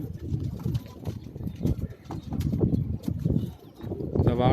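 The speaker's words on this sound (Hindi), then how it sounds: "तो ये शेखों वाला कबूतर आपके मोबाइल की स्क्रीन पर" Sheikh breed pigeons cooing on a rooftop in New Rizvia Society, Karachi, a series of soft, low throaty coos heard up close against faint background noise.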